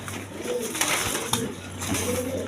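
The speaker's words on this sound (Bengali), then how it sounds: "এক কালার কালারিং রাজগোল্লা কবুতর দেখেন" A black Rajgolla pigeon offered for sale coos nearby in a few rounded, rising-and-falling throaty calls, spaced close together, with soft clicks and shuffling in between.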